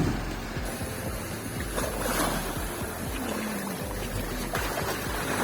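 A small open motor launch heads out onto the open sea, its engine droning steadily beneath broadband wash of water and hull splash, loud and close throughout with no speech.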